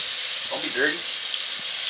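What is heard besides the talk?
tap water running while washing dishes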